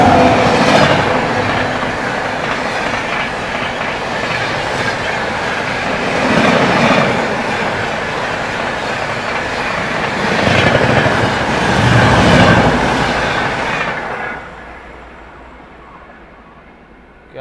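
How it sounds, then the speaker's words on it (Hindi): A fast train racing past a neighbouring track, a loud continuous rumble with rhythmic clatter that swells twice and then fades away over the last few seconds. "उसके बगल से भी कोई ट्रेन आ रही है बहुत बढ़िया रफ्तार में"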